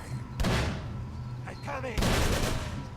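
Gunshots in Call of Cthulhu: two loud, close reports about a second and a half apart, each with a booming tail, and a voice briefly between them.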